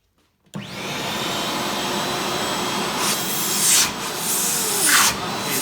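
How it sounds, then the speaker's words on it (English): Steady loud rushing airflow from an MX2 machine's air suction, starting abruptly and holding a constant hiss, with brief swells as hands pass over the intake. "actually you'll hear the air suction on it"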